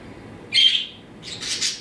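Pet conure parrot giving two short, shrill chirping squawks about a second apart, close and fairly loud over a quiet room background.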